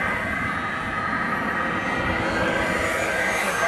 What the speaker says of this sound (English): Just under the airplane.